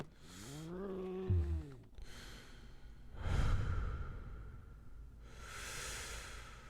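Heavy, slow breathing close to the mic: long drawn breaths and sighing exhales with pauses between, plus a brief low groan early on.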